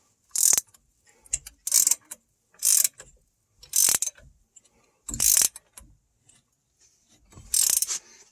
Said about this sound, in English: So I'm going to use a fixed wrench on the receiving side, and then we'll go ahead and begin to tighten.